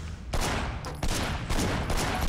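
Rapid bursts of gunfire in the video game Sleeping Dogs, sharp repeated shots crackling close and loud, several volleys spread across a couple of seconds with no talk over them.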